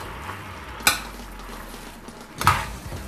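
Browning meat for a big batch of cottage pie is stirred in a pot over a low frying hiss, with two distinct scraping clinks of the utensil against the pot about a second and a half apart.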